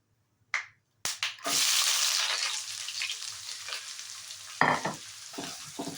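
After a sharp click, food drops into hot mustard and soybean oil and bursts into a loud sizzle. The hiss then settles into a steady fry, broken by a few close stirring scrapes and knocks.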